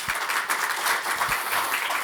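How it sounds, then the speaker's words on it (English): A lecture audience breaks into steady applause as a speaker is introduced at a knowledge-management lessons-learned session, dense clapping sustained evenly throughout at moderate distance. "Let's give him a round of applause."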